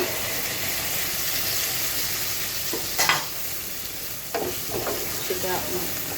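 Green chillies fry in hot oil in a pan during fish cooking, giving a steady close sizzle while a utensil scrapes and stirs with a few brief clinks.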